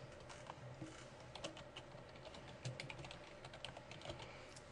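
Rapid, irregular clicking of computer keyboard keys as a title is typed in Photoshop for a digital scrapbook page, quiet and close, with no talking.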